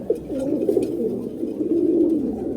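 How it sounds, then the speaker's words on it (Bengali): Pigeons from a loft of 72-strain birds coo continuously, low rolling calls overlapping close by with no pauses. "এই কবুতরটাও আবির ভাই থেকে আনা"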